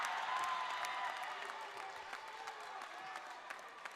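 Women's community college basketball crowd at a Palomar versus Glendale playoff game, cheering and clapping with a steady roar that is loudest at the start and eases slightly, with scattered claps and shouts.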